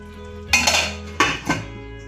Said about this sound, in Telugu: ఇప్పుడు మూత పెట్టుకుని ఒక ఐదు నిమిషాలు మగ్గించుకుందాం